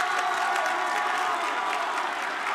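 A high school boys basketball crowd at Blue Valley North versus Bishop Miege roars steadily after a three-pointer, dense cheering and clapping filling the gym without a break.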